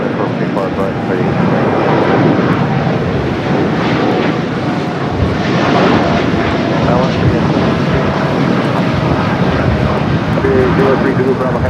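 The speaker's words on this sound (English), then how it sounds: "Dreamliner now rolling down at 25 right" A Boeing 787 Dreamliner takes off on runway 25 right at LAX, a loud, sustained jet engine roar that holds steady throughout with a broad rumble.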